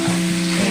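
Oil with turmeric, chili, cumin, coriander and salt frying in a pan, a steady close sizzle with a low harmonic hum running underneath, no talking.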